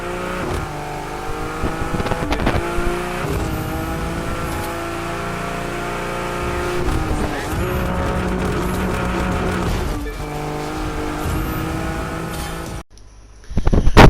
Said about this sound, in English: Pretty aggressive sound for a 3-cylinder engine